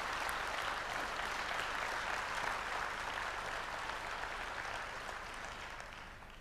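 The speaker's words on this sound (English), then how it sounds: "Let's give him a big round of applause" A seated audience applauds Mr. Gregg Maughan at a business talk, a dense, steady wash of many hands clapping that holds evenly and then tapers slightly toward the end, with no voices over it.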